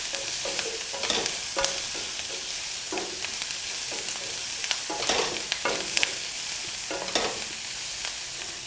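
Onions sauté in a hot pan for an egg curry, giving a steady sizzle broken by repeated scraping stirs of a spoon against the metal.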